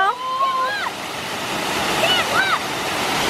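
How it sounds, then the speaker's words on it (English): A waterfall at Salt Springs State Park, Montrose, Pennsylvania, gives a continuous broad rushing roar that holds steady throughout, with birds chirping faintly over it and people talking. "This is the waterfall."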